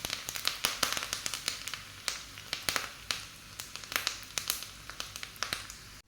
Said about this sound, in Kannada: ನೋಡಿ ಈಗ ಸಾಸಿವೆ ಚಟಪಟ ಅಂತ ಸಿಡಿತಾ ಇದೆ